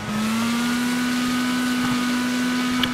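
A race car engine drones loud and steady at high, near-constant revs in Wreckfest, an asphalt car racing on dirt, with a faint bump near the end.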